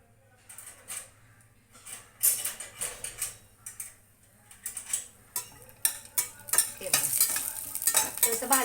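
Wheat being roasted in a little oil for jaggery lapsi, stirred with a utensil in a pan, making repeated scraping strokes over a soft sizzle, getting busier and louder toward the end, with no voices.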